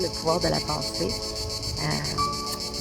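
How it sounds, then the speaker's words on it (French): Cicadas sing outdoors in a loud, dense, pulsing buzz that runs throughout, while someone speaks over it in the foreground. "comme vous entendez, il y a des cigales qui chantent et c'est assez puissant"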